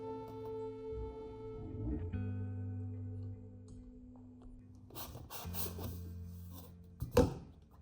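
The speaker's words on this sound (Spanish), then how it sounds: "Insertamos un tubo dentro del otro para que quede expandido a la medida correcta." One PVC tube is forced inside another to stretch it, giving short rubbing, scraping bursts of plastic on plastic over a steady background hum, with a sharper scrape near the end.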